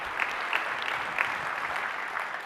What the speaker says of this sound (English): Another big round of applause for all the 3 DJs, I should say 4 DJ, including the one that opened the show.